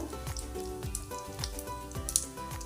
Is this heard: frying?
yes